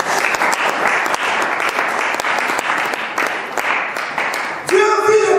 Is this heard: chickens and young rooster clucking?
no